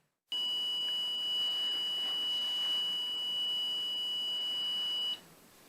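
Detector in an abandoned railway station cellar emits one long, unbroken high-pitched electronic beep lasting about five seconds, steady and clear over faint room hiss.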